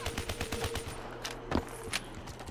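Rapid bursts of gunfire from a weapon in Black Ops 3 Zombies on the Zetsubou No Shima map, with quick repeated shots crackling over a low background hum, fairly soft and closely spaced.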